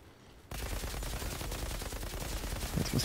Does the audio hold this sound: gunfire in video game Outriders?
yes